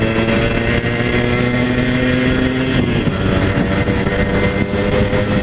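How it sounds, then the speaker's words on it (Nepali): A restored Yamaha RX-100 motorcycle is being ridden, its engine droning loud and steady at close range with a constant buzzing tone throughout, and no talking. "उत्पात कुद्छ यो बाइक फेरि."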